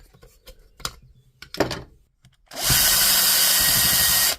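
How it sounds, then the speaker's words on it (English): After a few handling clicks and knocks, a Makita DGA463 brushless variable speed angle grinder with a blade that will not lock starts up close, whirring loudly and steadily for about two seconds before stopping. "This Makita DGA 463 brushless variable speed angle grinder."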